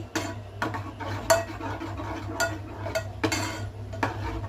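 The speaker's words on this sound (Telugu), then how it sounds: "సిమ్లో పెట్టి బాగా కలుపుతూ ఉండాలి, బాగా ఉడకాలన్నమాట" Tamarind pulihora mixture being stirred in a pan on a low flame, with repeated soft scraping and clinks of a spoon against metal at close range over a steady low hum.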